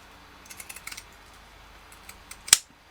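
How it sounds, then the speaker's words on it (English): Pinking shears trim the corners of fabric for a sewn gift shoulder bag, giving a few faint close snips and then one sharp crisp cut near the end, with no talking. "I'm going to come in with my pinking shears"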